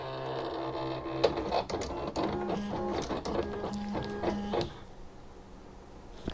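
A Silhouette Cameo cutting machine runs a test cut, its motor whirring and stepping in steady bursts with faint clicks, then dropping to a quieter hum near the end.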